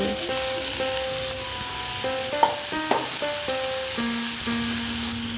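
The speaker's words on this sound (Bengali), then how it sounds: "বেশি ভাজলে ঢেঁড়সের কালারটা ডিপ কালার হয়ে যাবে তাই এখানে আমি হালকা ভেজে ছেড়ে দেব" Okra fries lightly in a pan with a steady close sizzle and occasional stirring scrapes, while tonal background music plays along beneath it.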